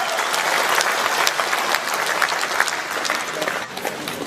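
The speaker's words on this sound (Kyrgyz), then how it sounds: "Райымқұловго кол чабуулар болсун келиңиздер" An audience at a Kyrgyz community celebration in Moscow breaks into loud, sustained applause, a dense steady wash of many hands clapping that fills the hall.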